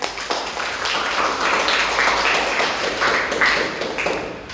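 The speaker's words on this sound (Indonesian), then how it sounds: "Tepuk tangan dulu buat kalian." A classroom of students gives a burst of clapping for their class, a dense, steady patter of many hands that holds at a fairly even level for about four and a half seconds with no talking.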